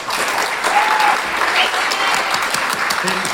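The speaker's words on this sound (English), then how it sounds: "I just want you guys to give him a round of applause" Loud, dense audience applause from a crowd fills the whole stretch, steady and close, with brief whistle-like tones and murmured voices mixed in.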